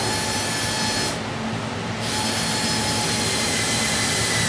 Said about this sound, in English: I'm going to drill the same hole, 3/4 inch with my Makita drill